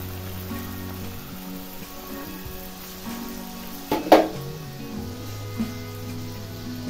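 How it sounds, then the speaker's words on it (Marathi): Sweet stuffed purnache dhonde dumplings frying in hot oil, giving a steady, close sizzle throughout with a brief louder crackle and stir near the middle, no talking. "आता राहिलेलं पण तळून घेणार आहे मी असेच."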